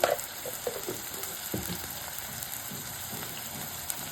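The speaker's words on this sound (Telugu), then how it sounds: "సన్నగా తరిగి పెట్టుకుని ఉల్లిపాయ ముక్కలు కొంచెం వేసి వేయించాలి" Chopped onions frying in a pan for a simple home-style curry, a steady soft sizzle with a few small crackles and stirs near the start, fairly quiet and continuous, no talking.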